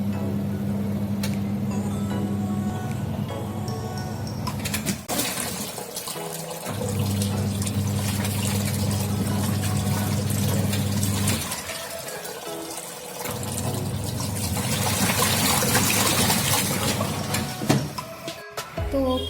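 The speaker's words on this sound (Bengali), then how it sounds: "এবারে এটাকে আমি 2 থেকে 3 মিনিটের জন্য নর্মাল জলে ওয়াশ করে নেব।" A Sami automatic washing machine runs a short wash cycle in plain water, with a steady motor hum and swishing water that pause briefly twice as the drum reverses, then resume at a constant level.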